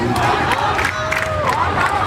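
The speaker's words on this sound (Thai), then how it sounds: "ส่งกำลังใจเชียร์กัน" A crowd of students cheers and shouts steadily to send off the Mon Thong Witthaya school football team as they board a bus home, a dense, continuous roar of many voices close by.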